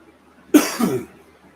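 A single person coughing up close indoors, one sharp cough followed by a shorter throaty rasp, then quiet.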